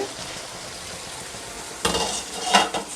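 Chicken curry fries in a pan with a steady low sizzle. Near the end comes a brighter burst of stirring and clinking against the pan.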